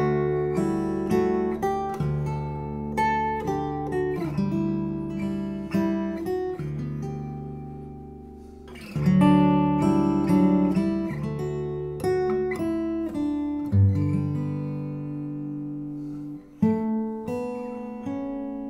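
Fingerstyle acoustic guitar in drop D tuning plays a sweet melody over chords with a low D bass, steady and close, no talking.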